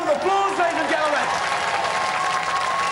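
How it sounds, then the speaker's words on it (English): A studio audience at a robot combat show applauds, a steady wash of clapping and crowd noise that runs under an announcer's voice throughout. "Give them a round of applause, ladies and gentlemen."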